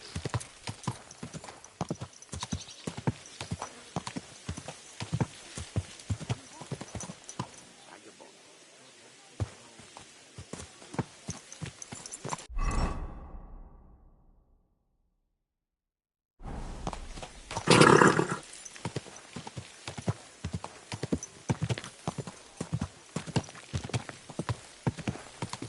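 Horse hooves clip-clop in the game Kingdom Come 2 at a mill beside a stream, a steady rhythmic walking gait with a whinny, broken by a brief silent gap before the hoofbeats resume.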